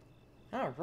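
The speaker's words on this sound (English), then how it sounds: "Alright, some kind of a goat here." A goat in the video game The Legend of Zelda: Breath of the Wild lets out two short, wavering bleats in quick succession, close and fairly loud against faint background ambience.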